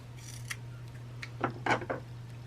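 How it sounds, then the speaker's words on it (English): Scissors snip through fabric strips folded in half for a messy rag bow, a few crisp cuts and rustles close by against a steady low hum, with no talking. "I'm just going to go ahead and cut them all."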